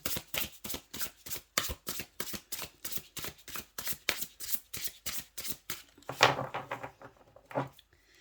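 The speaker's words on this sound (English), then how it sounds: "Let me give a good shuffle." Tarot cards are shuffled in quick, rhythmic riffles, about two per second, close and crisp, ending with a looser flutter of cards.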